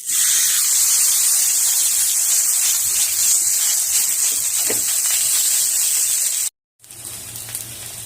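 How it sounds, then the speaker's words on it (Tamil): Adai batter sizzles loudly on a hot griddle, a steady hissing fry that cuts out briefly near the end and then resumes softer. "இப்போ இதை வந்து நம்ம அடை சுடலாம்"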